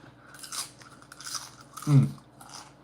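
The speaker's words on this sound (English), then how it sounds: "Oh, you hear that crunch? That's the proper crunch." Nachos being eaten, a few close soft crunches and chewing sounds in short bursts, with one louder bite near the end.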